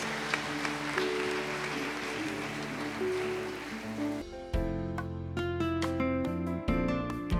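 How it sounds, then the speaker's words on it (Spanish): A church congregation claps as an offering of praise to God at the close of an evening service, producing a dense, steady wash of applause for about four seconds before music with percussive hits takes over. "Denle ofrenda de palmas al Señor."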